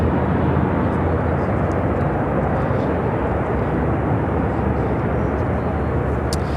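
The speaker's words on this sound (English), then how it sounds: "Retro livery on this A321. Now touching down on 28 Center, coming in from San Diego, flight 489." Retro-livery Airbus A321 arriving from San Diego touches down on runway 28 Center at Chicago O'Hare, a loud, steady broadband jet roar holding close and constant throughout, with faint voices underneath.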